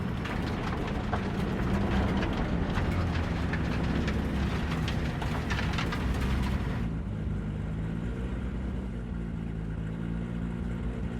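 Train running on rails in the video game Cyberpunk 2077, a loud continuous rumble with rattling clatter that shifts partway through, with no talk.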